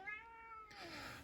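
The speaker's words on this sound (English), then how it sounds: "sorry if you hear my cat in the background" A cat meows in a drawn-out, rising cry, fairly close, with a second rougher meow following; no talking.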